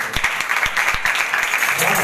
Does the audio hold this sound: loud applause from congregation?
yes